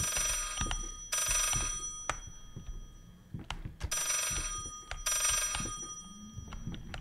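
A telephone rings in the horror video game Layers of Fear, sounding in repeated shrill bursts separated by short pauses, loud and close over a low background.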